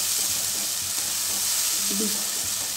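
Ground spice paste of ginger, tomato and green chilli frying in hot oil in a pan for a Bengali jackfruit curry, a steady close sizzle with faint stirring scrapes throughout.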